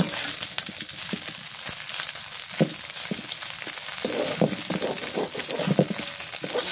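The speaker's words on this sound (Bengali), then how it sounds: "গোটা মাছ কড়া করে ভাজা হলে ভালো হয়।" Small whole river fish fry crisp in hot oil with a constant close sizzle, broken by occasional clicks and scrapes of stirring.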